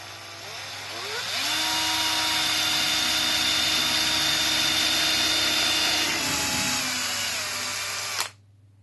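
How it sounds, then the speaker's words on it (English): A power drill with a 3mm bit revs up and runs steadily at high pitch for several seconds drilling a pilot hole in a door, its whine shifting slightly as it bores in, then stops abruptly. "I'm now going to drill the pilot hole, being very careful to get the drill bit in the right place"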